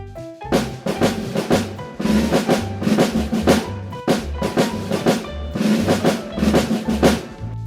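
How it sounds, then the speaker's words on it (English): A marching drum pattern of repeated hits and rolls over a steady low beat, loud and close, with a short break midway before the rhythm resumes. "This is the sound of marching drum."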